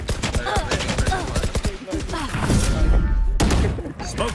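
Rapid bursts of gunfire in the tactical shooter game Valorant during a university tournament grand final, sharp repeated shots and thuds close and loud, with a deeper rumble midway and people talking over it.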